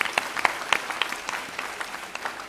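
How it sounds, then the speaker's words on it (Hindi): An audience applauds after a performance, a dense sustained wash of many hands clapping at a steady moderate level, with scattered louder claps standing out. "ये एक बार जोरदार तालियों के साथ इनका हार्दिक अभिनंदन।"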